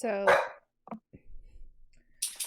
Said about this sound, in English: sorry about the barking, everyone.